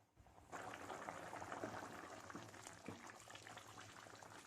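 Soaked rice boiling in water in a pot over a high flame, a steady bubbling rolling boil that starts abruptly after a quiet moment and continues close and fairly faint.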